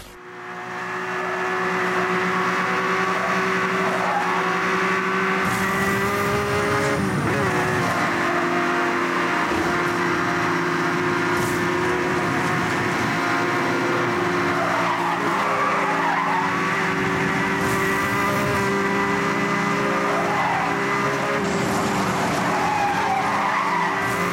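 Need for Speed racing game audio plays on an HP 27 all-in-one PC, with continuous loud engine drone and long squealing tire skids over a steady wash of game sound.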